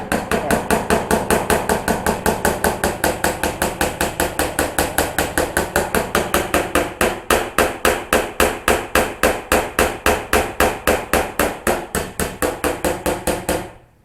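Hammer tapping a dent out of Subaru Justy sheet metal, a long run of quick, evenly spaced metallic taps, close and loud, that slows a little toward the end before stopping.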